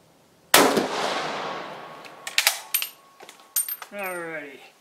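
A Swiss K31 bolt-action rifle fired at a 50-yard range: one loud sharp shot with a long decaying echo, followed by metallic bolt and brass clatter and a brief voice near the end.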